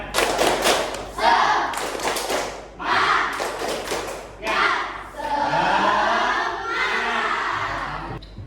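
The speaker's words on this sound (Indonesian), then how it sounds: "Tunjukkan dengan tepuk semangat." Students in a classroom do a rhythmic spirit clap: patterned bursts of hand claps and thumps, with group voices joining in, loud and close for several seconds.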